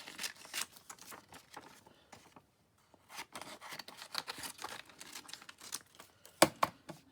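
Scissors snipping and rustling through secondhand Sunday supplement magazine paper to trim card edges, with bursts of crisp cuts and crinkling, a brief pause, then more snips ending in a sharp louder snap. It is close but quiet, with no speech.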